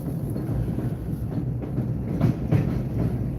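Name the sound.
New York subway train passing overhead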